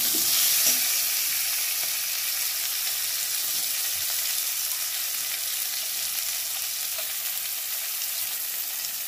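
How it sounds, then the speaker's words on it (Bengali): Onions with salt fry until browned with a loud, steady sizzle that hisses continuously, close up, with faint stirring scrapes now and then. "পেঁয়াজটার মধ্যে একটু লবণ দিয়ে ভেজে নেব আমি লাল লাল করে।"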